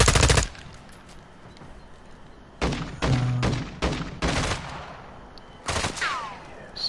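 Short bursts of automatic gunfire from a PS4 shooter crack loudly in separate clusters, split by quieter gaps of background game sound.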